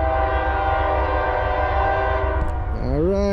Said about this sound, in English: Give me a nice horn show. Lay on that horn.